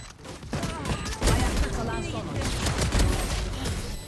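Rapid gunfire bursts from the tactical shooter Valorant, played with the agent Jett, crackling in dense repeated volleys throughout, with game effects layered over them and a voice talking under the shots.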